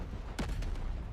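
Distant artillery booms in a Delta Force video game match: one sharp shot followed by a second, fainter report, heavy and rumbling against a low background.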